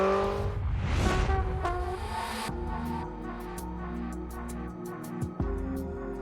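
A car brakes hard from high speed during a driving test on a track, a loud tire-scrubbing rush that falls away into a low, steady engine note with a few sharp clicks.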